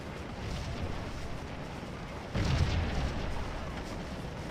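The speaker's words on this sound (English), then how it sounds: "We do have artillery hitting us hard still in the Trossel Woods." Artillery fire striking troops in the woods in a Gettysburg battle game, a distant low boom midway that lifts a steady background rumble, fairly faint overall.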